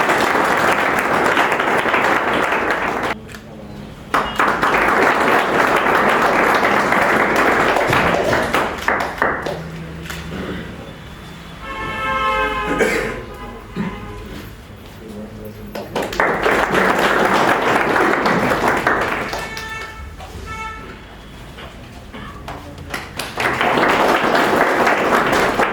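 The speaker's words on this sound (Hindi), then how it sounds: "आइए सोनम और सारे लोग ताली बजा के स्वागत करें।" An audience at a felicitation ceremony breaks into loud, sustained applause in several long waves, with a speaker's voice filling the short pauses between them.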